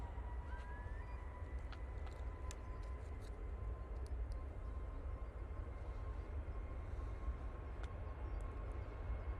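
An Emirates airliner rolls down a runway at Manchester Airport, heard as a faint, distant, steady roar with a low rumble and no voices.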